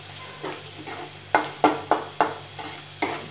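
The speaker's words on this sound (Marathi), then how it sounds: "आता आपण यांना मिक्स करून घेऊया तेलात" Spices tossed and stirred in hot oil for a samosa filling: a steady low sizzle under a series of sharp scraping stir strokes, about six distinct clacks close by, with no talking.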